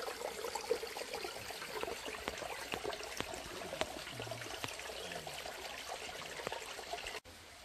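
A clear, small forest stream flowing at a jungle trail entrance, a steady, faint trickling and burbling of water with scattered little splashes, continuous and unbroken until it cuts off abruptly near the end.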